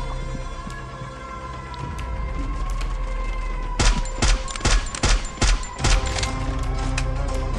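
Rapid bursts of gunfire in an online shooter game, a string of sharp loud cracks packed together in the middle of the stretch over a steady low hum, with a few scattered single shots after.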